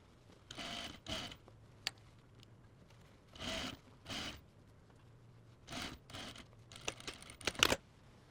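A sewing machine stitches a sleeve seam in several short, separate bursts of whirring, with quiet pauses and light handling noises between runs.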